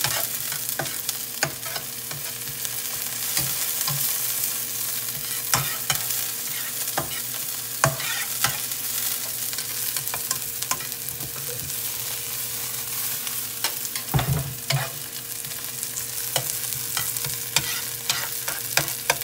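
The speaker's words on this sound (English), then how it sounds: "Let's move back over to the mushrooms, which are browning nicely." Mushrooms fry and brown in a pan with a constant crackling sizzle, sharp pops and occasional stirring scrapes, close and steady throughout with no talking.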